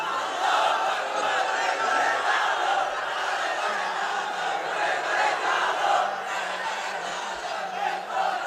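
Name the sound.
crowd chanting slogans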